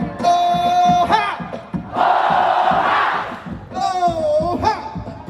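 At a music festival in Malaysia, a large crowd shouts a chant in unison between a leader's calls, a loud roar of many voices rising and fading once in the middle.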